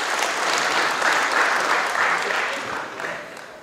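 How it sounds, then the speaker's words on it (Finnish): Applause at a rally prize-giving ceremony for the fastest crews of a class, a steady outdoor crowd clapping continuously, then thinning and fading toward the end. "vielä kerran aplodit heille."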